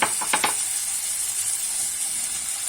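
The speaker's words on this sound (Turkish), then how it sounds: "Tereyağıyla iyice kavruldu arkadaşlar." Peas and chickpeas sauté in butter for a vegetable orzo dish, giving a steady, close sizzle with a few quick stirring scrapes at the start and no voices.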